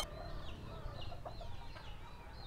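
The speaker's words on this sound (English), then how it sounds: "Loads of small farms, chickens running around." Chickens on small farms in Pai, Thailand cluck softly at a distance over a low rumbling background, with scattered bird calls and a faint, uneven rhythm.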